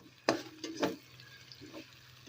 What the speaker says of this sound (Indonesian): Aduk lagi sampai bumbunya benar-benar tercium wangi ya.